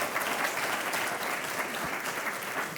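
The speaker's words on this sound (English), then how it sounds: "Round of applause, please." A summit audience gives a round of applause, a dense, even wash of clapping that holds steady at moderate volume throughout with no talk over it.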